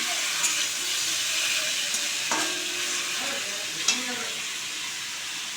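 Potatoes frying in oil in a home kitchen give a soft, continuous sizzle, with a few brief stirring clinks and pops that stand out over the steady hiss.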